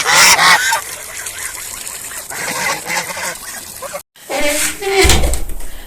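Geese honk loudly and repeatedly nearby, harsh nasal calls overlapping in bursts, with a person speaking at moments between them.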